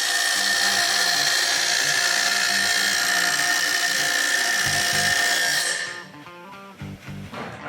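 A Palmgren 8-inch bench grinder spins with a loud high whine while something is pressed against the wheel, producing rhythmic grinding pulses, then quiets abruptly near the end to a lower, fainter rattle.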